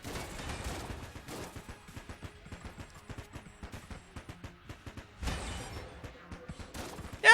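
Rapid AK-47 gunfire in the video game Enter the Gungeon, a long run of sharp evenly spaced shots with a couple of louder bursts and a final heavy blast near the end.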